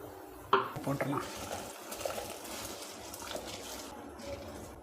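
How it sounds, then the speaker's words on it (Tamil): A quick clatter and splash as rice is tipped into a boiling pot for tomato rice, followed by a steady bubbling simmer that continues to the end. "நம்ம இப்போ இந்த அரிசியை போட்டுக்கலாம்."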